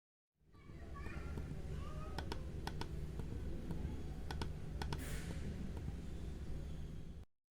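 Close-up clicking of a Zebronics Zeb Jaguar wireless mouse (2023), a handful of sharp, separate clicks spaced irregularly over a steady low background hum, with no talking.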